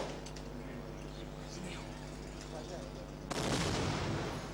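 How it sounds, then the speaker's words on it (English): Shell fire in raw war footage: a rumbling background with scattered distant reports, then a sudden loud blast that swells into a sustained roar of close bombardment. "Shell fire."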